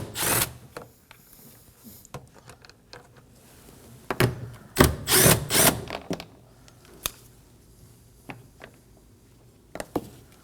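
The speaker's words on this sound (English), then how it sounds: "Using a 10mm socket, go ahead and remove them." Socket wrench loosening 10mm bolts on a rear door panel of a 2017-2024 Nissan Armada, heard as scattered close clicks, ratcheting bursts and metallic knocks with quiet gaps between.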